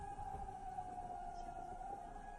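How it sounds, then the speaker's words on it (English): Air raid warning sirens in a city in Germany, a steady, distant wailing tone droning in the background throughout, faint and continuous. "Sounds like air raid sirens ringing out across the city."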